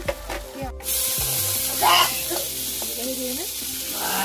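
Raw onions dropped into hot oil in a kadai and frying, a bright close sizzle with stirring scrapes over faint tonal background sounds.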